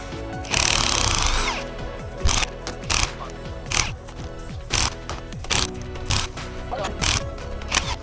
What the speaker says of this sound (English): We got to take all these bolts off of the ring gear.